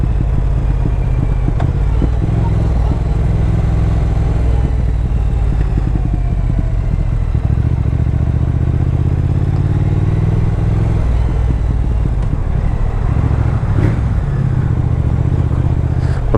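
A Triumph Thruxton R motorcycle engine pulls hard in third or fourth gear, a loud, steady low drone that keeps climbing as speed builds, with a brief gear change near the middle and wind rush over it.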